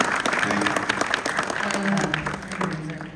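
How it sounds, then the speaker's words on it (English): A crowd claps steadily through a Dragon Ball Z Kai fan convention Q&A panel at Fan Expo Dallas, a speaker's voice running over the applause. "Give yourself a round of applause for that, y'all."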